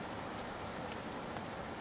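Rain falls steadily in a dense, even patter, a soft continuous wash of drops with no voices or other sounds.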